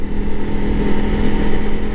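A 2021 Honda CRF300L Rally dual-sport motorcycle with a slipper clutch rides along in Northern California, its engine droning loud and close with slight pitch changes as it shifts gears, with wind buffeting and no speech.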